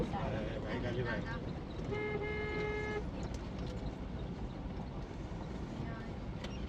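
A motorbike arriving in a village in Konkan, its horn sounding a single steady toot mid-clip over constant engine and road rumble, with a faint second honk near the end.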